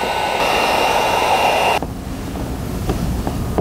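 Heat gun blowing in steady pulses onto tint film on a 2018 Infiniti Q50 taillight, a loud continuous airy roar that drops slightly in level partway through, with no talking.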